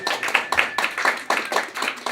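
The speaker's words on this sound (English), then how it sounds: "Let's have a round of applause for this guy." Close, loud hand clapping greets cartoonist Bob Camp at a comic convention panel, a few hands beating in a quick, uneven rhythm.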